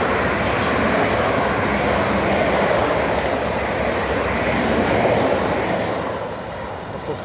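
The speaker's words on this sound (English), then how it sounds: "there's this fast train coming through" A fast Class 444 train roars past close by through a station, a loud steady rush of wheels and air that fades slightly toward the end.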